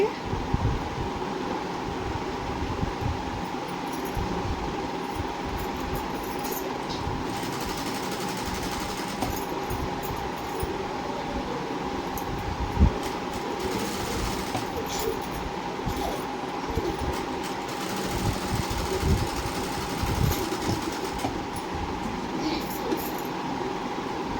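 A sewing machine stitches lining cloth onto a blouse, a steady close mechanical whir running continuously throughout with light rattling.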